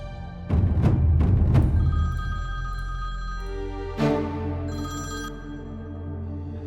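A telephone rings loudly in a drama scene: a rapid trilling bell that repeats in bursts, with no voices, over a sustained musical drone and a sharper chime.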